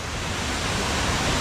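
Tyrchi waterfall in Meghalaya running with heavy water, a steady broadband roar of falling water that stays loud and unbroken throughout, with no voices.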